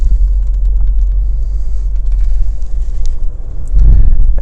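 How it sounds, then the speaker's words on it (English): Jeep Wrangler JLU creeping downhill on a trail with hill descent control engaged, a heavy steady low rumble from the drivetrain and tyres, with a louder thump and swell of noise toward the end. "with hill descent on, I'm taking my foot off the brake here. And I can hear it engaging, almost sounds like ABS a little bit."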